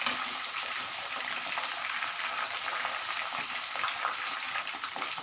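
Mushrooms fry in hot oil for a Manchurian starter, giving a steady, dense sizzle that stays loud and close throughout with no pauses.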